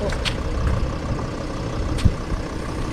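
A VW 3.2 V6 engine in a VW Caddy van idles with a low, steady rumble and broadband mechanical noise, plus a brief thump partway through.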